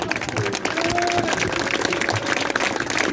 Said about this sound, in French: Je vous prie d'applaudir et de faire un tonnerre d'applaudissements